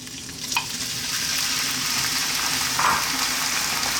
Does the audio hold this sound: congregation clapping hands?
no